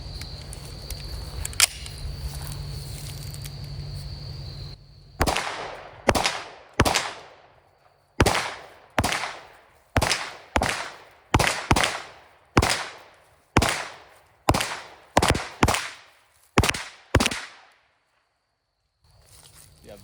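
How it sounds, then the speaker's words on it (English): Rapid gunshots from a Springfield Armory Kuna pistol-caliber carbine, fired outdoors while moving, about a dozen sharp loud reports in an uneven rhythm, after a stretch of steady background hum. "Let's get some moving shots with this thing."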